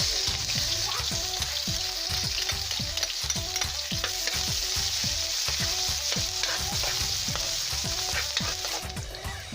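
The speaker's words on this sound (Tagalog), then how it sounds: "So tara, lutuin na natin yan. Lagay na natin yung sibuyas." Onions sizzling in a pan for pork sisig, a continuous loud frying hiss with steady rhythmic scraping of stirring throughout.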